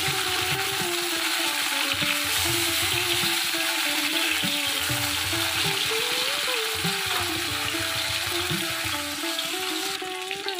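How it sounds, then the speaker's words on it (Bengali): Fish pieces for fish 65 keep frying in oil after being turned, giving off a steady, close hiss and crackle that lasts the whole time, with no talking. "এবারে আমি একদিকটা উল্টে দেবো।"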